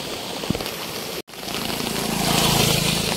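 Floodwater running off the fields pours down into a deep spot during heavy rain, a loud, continuous rushing roar with a brief cut partway through and a slight swell toward the end.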